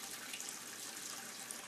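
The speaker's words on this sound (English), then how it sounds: "Just got my cold water on full blast." Cold water gushing at full force from a sink tap, a steady close hiss of running water with no breaks and no voices, while home brewing beer.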